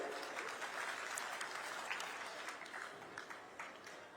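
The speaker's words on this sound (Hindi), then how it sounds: "और ले एक बार आप ताली बजाओ भाई" Audience applause from a crowd at a public event in Rajnandgaon, steady and sustained clapping filling the space for several seconds, moderately loud.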